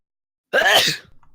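A loud, close sneeze erupts after a moment of silence, a single forceful burst with a short breathy fade, during a tabletop D&D game session.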